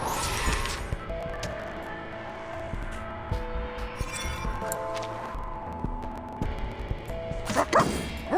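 A puppy in the video game Reverse: 1999 gives a few short, light barks and yips over a steady background of in-game music tones.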